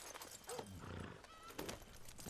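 A horse in Red Dead Redemption 2 clip-clops along with steady hoofbeats and lets out a whinny partway through, all fairly soft and distant.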